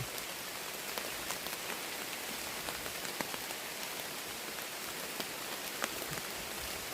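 Heavy rain pours on a bamboo forest while bamboo shoots are being gathered, a dense, steady hiss with scattered sharper drops hitting nearby surfaces, continuous and unbroken with no voices.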